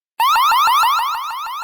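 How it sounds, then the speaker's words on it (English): The 105-decibel siren of a WiseCam floodlight camera blares alone after a moment of silence, a loud, rapidly repeating rising whoop pulsing about six times a second, slightly easing toward the end. "Or let the 105 decibel siren do the talking."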